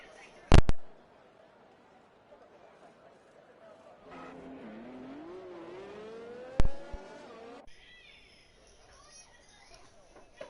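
Race cars in a Bahrain racing video game pulling away onto the formation lap: sharp clicks, then a rising engine whine that climbs in pitch over a few seconds before cutting to quieter ambience.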